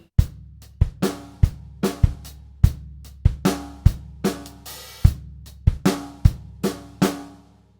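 A drum kit plays three bars of a funk groove from a Trinity Grade 3 piece at half-loud mezzo forte, a steady run of sharp hi-hat, snare and kick hits in a tight repeating rhythm, close and alone.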